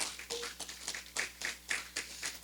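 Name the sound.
audience applause welcoming a speaker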